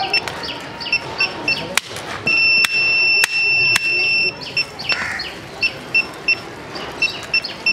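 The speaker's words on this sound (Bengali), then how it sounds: "আমাদের রিমোটের মধ্যে অ্যালার্ম আসতে থাকবে।" A motorbike anti-theft security alarm sounds in a close series of sharp electronic beeps and chirps, with a loud sustained tone in the middle and short repeated bleeps around it. No one speaks.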